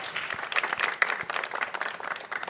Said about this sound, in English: Can we give another round of applause for Miss Larika Williams?